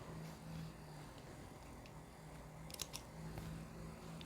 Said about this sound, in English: you'll cut your threads